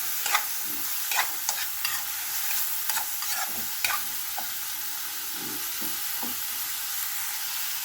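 Carrots stir-fried in a pan for ginisang togue with tofu, a spatula scraping and clinking in bursts over a steady bed of sizzling oil, with no voices.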